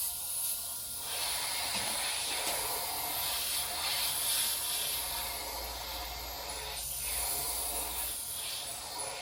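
An airbrush spraying black Delta Ceramcoat acrylic paint gives a continuous faint hiss that sputters unevenly, heard alone at close range.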